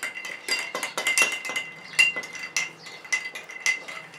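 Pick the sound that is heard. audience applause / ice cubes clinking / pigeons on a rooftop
ice cubes clinking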